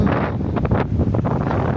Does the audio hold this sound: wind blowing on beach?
yes